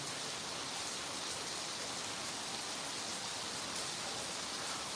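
Steady, continuous heavy rain falls over a village home, with water pouring from roof spouts; a dense, even hiss fills the whole stretch without pause, and no one speaks.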